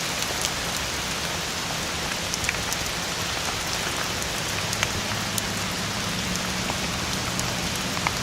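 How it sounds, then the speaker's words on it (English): Steady rain falls outdoors at a hillside burial ground in Plymouth, a dense, even hiss of drops spattering on surfaces that runs unbroken and fairly loud, with no voices over it. "It's raining, so it's really hard to get my notes out."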